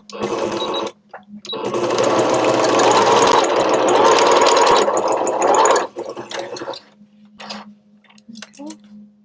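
A sewing machine runs steadily for several seconds, stitching a small fabric pouch along the interfacing edge, loud and close, then stops, followed by a few quieter handling sounds and brief clicks.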